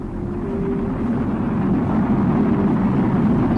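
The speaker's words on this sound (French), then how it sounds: "il se redresse et utilise ses moteurs pour terminer sa descente" Spacecraft engines fire continuously during a landing descent on Mars, giving a loud, steady low roar that swells slightly and holds throughout, with no voices.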